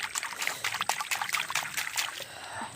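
A freshly caught mud crab is rinsed in water by a big riverbank in the Sundarbans, with steady close trickling and splashing throughout and no voice.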